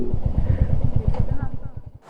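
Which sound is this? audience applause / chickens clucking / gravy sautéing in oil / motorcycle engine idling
motorcycle engine idling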